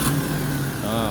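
Perodua Kembara car engine running with a steady mid-pitched hum and drone, close and fairly loud throughout a short stretch with no talk.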